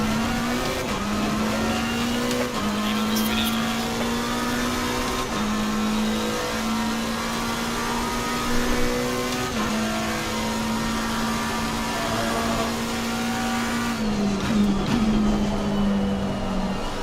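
Race car engines in Assetto Corsa Competizione as a McLaren tries to pass a black Ferrari at Watkins Glen: a steady, loud engine drone with rising and falling pitch through gear changes, with no voices.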